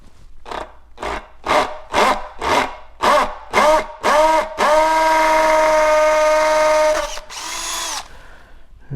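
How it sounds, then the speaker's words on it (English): A power drill with a 5/32 bit drills mounting holes for a tower on a 2006 Mastercraft Maristar boat, beginning with eight short bursts in quick rhythm and then a longer sustained whine before a final brief burst. "we've got our 5/32 drill bit here, and we're going to drill those outside holes."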